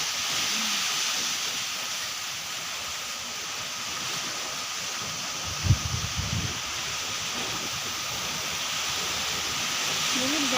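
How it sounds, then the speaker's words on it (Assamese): A broad, steady rushing of strong storm wind with rain blows continuously at even loudness, with a brief low thump in the middle and no speech. "বৰষুণো আনিছে বতাহো মাৰিছে"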